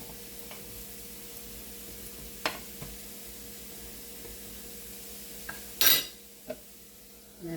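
Cabbage uppam frying in a pan, heard as a faint, low sizzle with a few sparse scrapes and clinks as it is turned, including one brief louder scrape.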